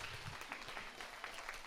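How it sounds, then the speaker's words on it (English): Audience at a documentary screening applauding, a brief dense patter of many hands clapping, moderately distant and steady throughout. "Clap for yourselves."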